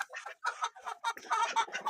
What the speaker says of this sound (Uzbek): Mana bu bizning Lakenfelder xo'rozimiz.